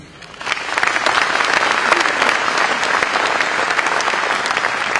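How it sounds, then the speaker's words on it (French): Sustained audience applause for a large group of music students at a mayor's New Year address in Cavalaire, 2019, starting abruptly and holding a steady, dense clapping texture throughout. "J'aimerais qu'eux aussi, on puisse les applaudir"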